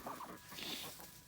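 Chickens in a farm coop give soft, brief clucks and murmurs, a few quiet calls close together over a low background with no one talking.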